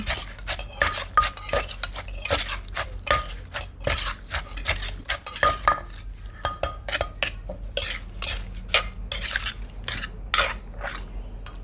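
A pestle pounds Thai papaya salad in a mortar, rapid close knocks and clinks in an irregular, busy rhythm with brief pauses, loud and alone without talk.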